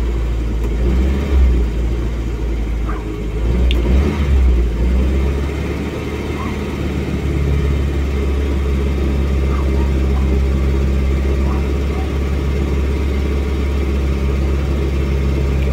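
Ford Pampa, Corcel or Belina engine, cold and stumbling at low idle, running as a steady close low rumble with slight rises in revs, the throttle easing off early on.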